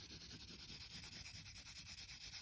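A pencil shades gray on paper in steady, rhythmic back-and-forth strokes, a soft, close rubbing that continues without talk.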